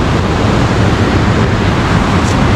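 Rushing water pouring between rocks near Pykara waterfall, a loud, continuous broadband roar with no pauses and no voices.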